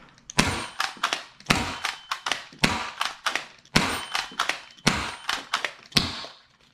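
Six darts fire from a Dart Zone Deuce Pro blaster, each shot a sharp close thump with mechanical clacks of priming between them in an even, deliberate rhythm.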